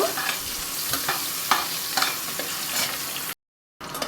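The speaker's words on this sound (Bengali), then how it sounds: "কেটে রাখা আমটা দিয়ে আমি একটু নাড়িয়ে নেব।" Cut mango pieces stirred in a hot pan with dry red chilli, a steady sizzle of frying broken by repeated scraping strokes of the spoon, close and fairly loud, ending in a brief silence before the sizzle resumes.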